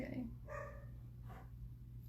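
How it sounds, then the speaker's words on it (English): A pet dog indoors giving a few short, faint barks spread over a couple of seconds, heard at a distance under low room hum. "Just ignore my dog."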